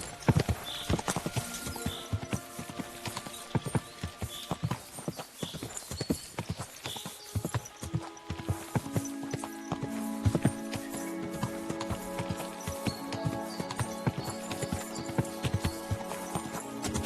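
Rhythmic clip-clop of horse hooves in the video game Kingdom Come: Deliverance II over a steady game soundscape, continuous and fairly close, with a brief whinny and layered tonal music.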